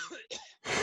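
A person coughs hard and close into a microphone during an online video call, three harsh bursts in under a second, the last one the loudest and longest.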